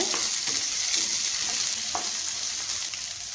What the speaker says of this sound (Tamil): கட் பண்ணி இப்போ இதையும் நல்லா வதக்கிக்கோங்க